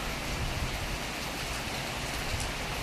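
Heavy rain falls steadily outdoors, a dense, even hiss of drops on surfaces that stays loud and unbroken throughout.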